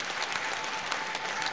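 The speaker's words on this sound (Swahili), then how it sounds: "Naomba tumpigie makofi mengi sana pia Mheshimiwa Rais" An audience at a public address in Dar es Salaam bursts into dense, steady applause for the President, many hands clapping together at a fairly close, even level through the whole short stretch, with no voices above it.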